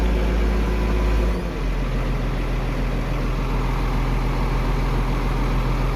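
A Ford 8830 Powershift tractor engine idles steadily and loudly up close, a continuous low diesel rumble with a slight dip in tone early on.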